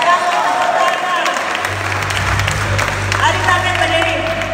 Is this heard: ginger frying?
no